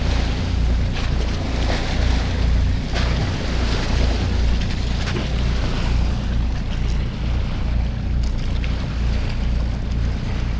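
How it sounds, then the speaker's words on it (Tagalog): Strong southwest monsoon wind buffets the microphone aboard a small fishing boat at sea, a loud, constant roar with low rumble and choppy water noise, no voices. "Habagat na guys ang hangin"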